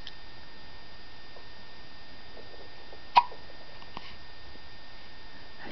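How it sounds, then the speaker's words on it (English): Single sharp hiccup in a quiet room, short and close, standing alone against faint background hiss. "Have you got nasty hiccups?"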